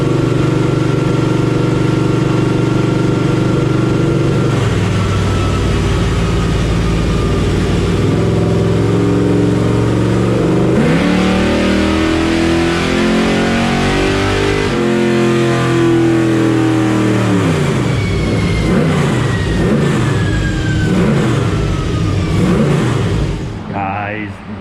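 A Blueprint small-block Chevy 400 on a dyno runs loud and close, idling and then revving hard through rising and falling sweeps, with speech at times over the engine.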